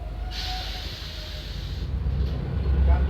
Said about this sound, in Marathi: गाडी आपली आता सांगोला रेल्वे स्टेशनवरती अरायवल करत आहे